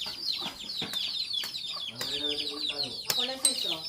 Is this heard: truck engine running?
no